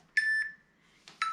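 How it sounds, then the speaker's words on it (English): A digital exercise timer gives short, high electronic beeps in two pairs separated by a brief silence, clear and close in a quiet room. "Timer needs to stop."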